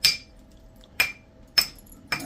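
Hammerstone strikes on a large flint rock during flintknapping, four sharp clacks spaced about half a second to a second apart, close and crisp with quiet gaps between.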